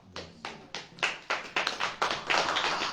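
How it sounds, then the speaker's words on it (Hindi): A congregation at a Christian prayer meeting claps along in a steady rhythm, with sharp, fairly loud bursts of hand claps repeating about every third of a second and building into denser, overlapping clapping. "ताली बजाओ।"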